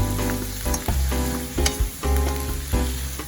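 Sliced celery stir-fried in a hot pan, a loud, close, continuous sizzle with rhythmic tossing surges and clattering stirs every half second or so, no voices.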